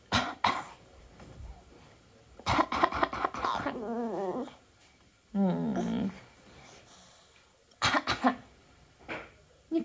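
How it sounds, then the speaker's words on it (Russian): A sick child coughs in short bursts, several separate coughs spread across the stretch with gaps of quiet between them, plus some throaty, whimpering voice sounds. "Кашляй."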